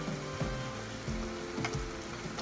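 Shrimp sautéing in a pan gives a steady, close frying sizzle, broken by a few soft scraping stirs of a utensil, with no talking.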